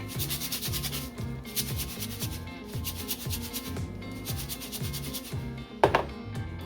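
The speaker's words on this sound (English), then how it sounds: "Then we're going to put our lid on and just give it a good shake." Biltong meat with black pepper and spices is shaken hard in a lidded container, giving rhythmic rattling bursts about every three quarters of a second, over faint background music and ending with a sharp knock.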